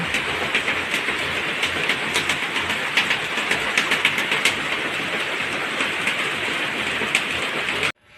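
Heavy rain pours steadily onto a roof, a dense unbroken wash with scattered sharper drips and taps standing out, close and loud throughout before cutting off abruptly at the end.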